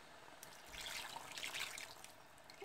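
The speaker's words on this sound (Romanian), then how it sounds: "200 de ml de apă rece." Cold water pours into a cooking pot for about a second and a half, a quiet splashing stream that swells and then tapers off, with no voices.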